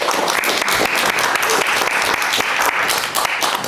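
Steady, loud applause from an audience after talks at a waterfront lockout AGM, a continuous dense patter of many clapping hands throughout the short stretch.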